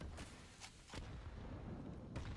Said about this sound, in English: Elige eats some nades, but he's fine with that.